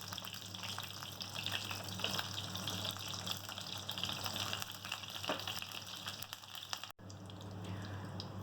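Kebabs fry in oil in a pan over low heat, a steady soft sizzle and bubbling crackle running continuously, quiet and close, briefly cut before resuming.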